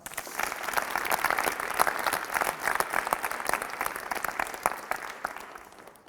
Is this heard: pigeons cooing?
no